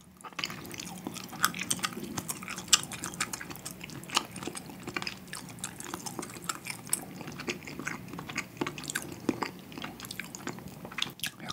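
Close-up chewing of Spam army stew with ham: soft, wet, irregular mouth sounds and small bites, heard up close and quiet without talk.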